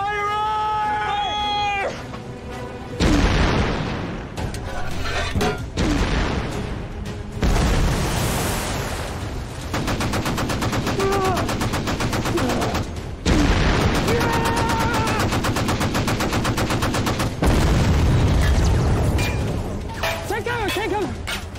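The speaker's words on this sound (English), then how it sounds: "Fire when ready. 5-inch fire! Repeat, 5-inch fire!" Warship 5-inch naval guns firing in battle in a film scene, heavy booming blasts and explosions under dense battle noise, shouted voices and musical score throughout.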